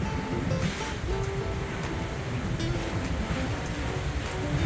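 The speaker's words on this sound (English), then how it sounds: "It's a bit windy, the boat's shaking really bad." Wind and lapping waves surround a small diesel boat on the Mekong River, a dense, steady rush of noise with buffeting gusts and a faint engine drone underneath, with no talking.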